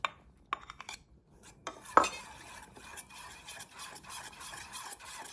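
Grated garlic being mixed into a dissolving mixture with a spoon: a sharp clink, then a steady scraping and stirring against the bowl that keeps going, close up and fairly soft.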